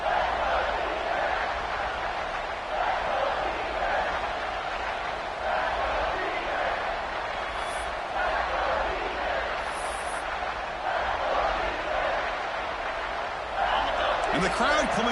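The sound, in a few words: football stadium crowd cheering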